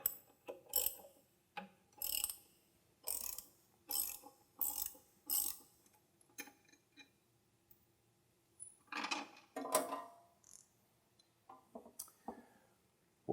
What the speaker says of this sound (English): It takes a 3/4 inch wrench on the underneath.